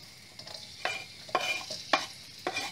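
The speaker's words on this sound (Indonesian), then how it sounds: "Jadi kita tumis dulu bawang putih sampai dia harum, until the smells awesome." Garlic sautés in hot oil with a steady soft sizzle, broken by several crisp scraping stirs of a utensil against the pan at an irregular pace, close and fairly quiet, with no talking.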